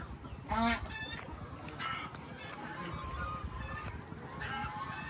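Chickens cluck and call in a rural barnyard, with a rooster's squawk near the start and scattered bird calls over steady background noise.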